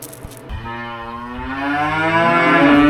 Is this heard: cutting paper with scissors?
no